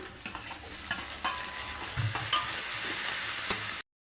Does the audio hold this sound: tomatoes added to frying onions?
yes